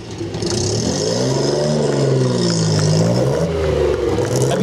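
A Ferrari Fantuzzi's engine revs loud and close, its rising and falling mechanical roar sustained across the whole moment.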